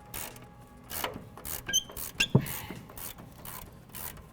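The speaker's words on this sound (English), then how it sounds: "go ahead and grab our socket on a 1/2 inch drive ratchet and get this loosened up" A 1/2 inch drive ratchet with a 21mm socket loosens a control arm bolt on a Chevy Silverado 1500, giving a close series of rhythmic clicks with a few sharper metallic knocks.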